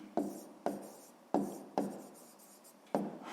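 Pen writing out a sixth-grade math exercise on paper, several short scratchy strokes each starting with a soft tap, close and quiet, with no talking.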